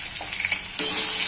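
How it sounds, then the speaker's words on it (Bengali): Potatoes fry in a pan with a steady, close sizzle, while a utensil stirs them in two brief scraping bursts. "এটাকে একটুখানি কষিয়ে নেব মানে একটু ভাজা ভাজা আলুগুলো হবে"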